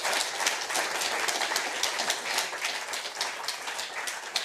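Audience applause at a banjo concert: a dense, steady wash of many hands clapping together, sustained and fairly loud without pause, with no voices over it.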